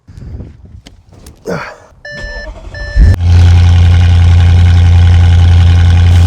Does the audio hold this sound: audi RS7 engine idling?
yes